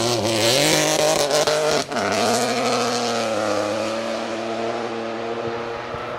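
A raucous 1.2 litre Peugeot rally car on a forest stage, its engine snarling loudly and steadily close by, with a brief dip in the note as it passes, no talk over it.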